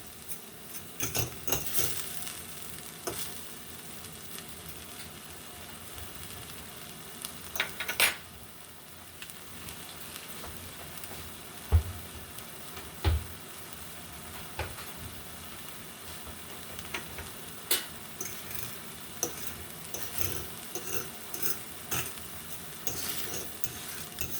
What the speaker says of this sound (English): mix it up good